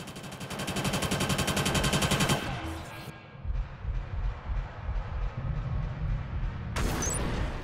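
Rapid automatic gunfire in the Killzone Shadow Fall online multiplayer shooter, a loud dense rattling burst for about two seconds, then quieter rumbling game ambience and scattered thumps before another loud burst at the end.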